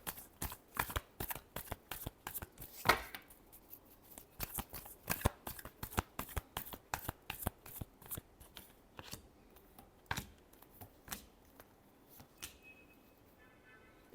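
Tarot cards shuffled by hand produce a quick series of crisp riffling flicks and soft slaps, close and fairly quiet, with an irregular rhythm of many short bursts.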